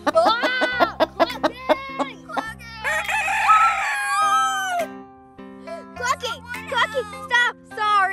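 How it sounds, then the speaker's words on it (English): An animated cartoon chicken on a Barbie fall farm trip lets out a series of clucks and a long, loud crow in bright, close bursts, with cartoon voices around it. "It's a chicken."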